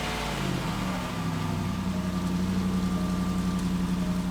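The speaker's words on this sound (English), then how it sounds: "Let's start it up one more time just to hear the magna flow." A Range Rover Sport L320 fitted with a MagnaFlow touring exhaust idles after an oil change, giving a steady, close, low engine drone with a constant hum and no speech.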